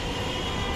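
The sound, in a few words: metro rail train passing overhead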